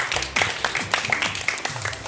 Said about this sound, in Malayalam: ഒന്ന് കൈയടിച്ചെല്ലാവരും